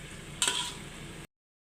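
Biryani masala water in a pot on the stove simmers with a steady bubbling hiss, with a brief sharper stir or splash near the start before the sound cuts off; close and moderately quiet, no talking.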